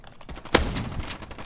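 A shotgun fires once in a first-person shooter video game, a sharp loud blast followed by a brief rumbling tail, with game noise continuing around it.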